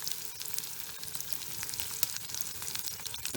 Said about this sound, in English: Fried fish on the trip, boys.